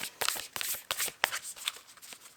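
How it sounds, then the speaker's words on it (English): An unusually large deck of cards is shuffled by hand, producing a quick run of crisp riffling bursts and soft flutters, close and fairly clear, with brief pauses between the passes. "I'm shuffling this strange because this is such a big deck, but I really want to get a good shuffle"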